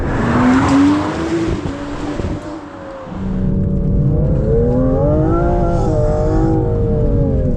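A 2025 Aston Martin Vanquish accelerates under partial throttle, its engine note climbing in pitch, easing off briefly, then rising again in a loud, close, sustained surge with no talking.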